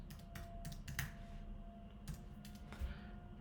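A computer keyboard clatters close by as Python code is typed, with quick clusters of keystrokes, short pauses and a few faint isolated taps over a low steady hum.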